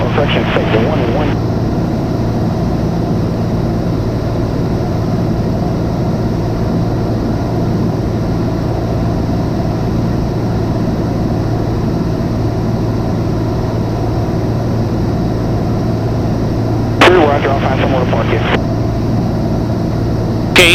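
A Piper Comanche 250 in flight gives a constant, loud engine drone and propeller hum that fills the whole stretch, with a pilot's voice over the cockpit noise and brief radio chatter toward the end.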